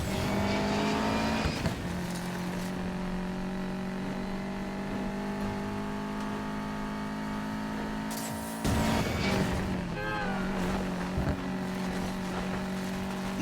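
A car racing toward an airfield in Need for Speed Payback, with a sustained engine drone at steady revs, shifting pitch and a couple of abrupt gear or impact bursts, no talking.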